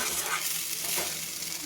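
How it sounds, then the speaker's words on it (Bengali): Sugar being stirred into cooked sago in a pan, a steady dense scraping and sizzling texture that continues without pause, close and fairly loud. "চিনিটাকে খুব ভালোভাবে নাড়িয়ে নেব।"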